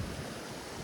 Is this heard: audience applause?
no